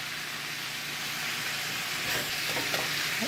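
Celery and other vegetables stir-fried in a pan with a continuous sizzle and soft tossing and scraping sounds that grow slightly busier toward the end. No one speaks.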